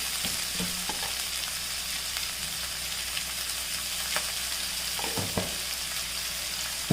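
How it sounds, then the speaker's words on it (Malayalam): Sliced onions sautéing with a little salt in a pan for a chicken roast make a constant, even sizzle, with a few soft scrapes and taps from stirring. "ഇത് നമുക്ക് ഒരു ശകല ഉപ്പും കൂടി ഇട്ട് നന്നായിട്ടൊന്ന് വഴറ്റിയെടുക്കാം"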